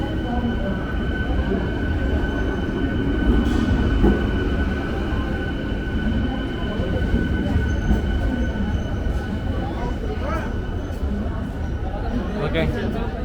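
A local commuter train in Varanasi, India rumbles steadily and loudly throughout, with faint metallic squeals and the chatter of passengers talking nearby.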